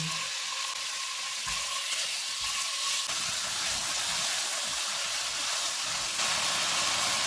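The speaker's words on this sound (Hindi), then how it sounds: "ऑयल गर्म हो गया है, इसमें 300 ग्राम चिकन डालेंगे।" About 300 grams of chicken frying in hot oil over a medium flame, a continuous crackling sizzle with steady hiss, fairly close and even throughout with no voices.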